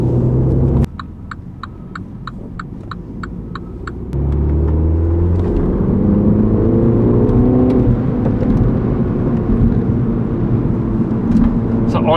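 Volkswagen Polo driven in sport mode: a steady engine rumble and whir that swells after a few seconds, preceded by a short run of electronic chimes inside the cabin.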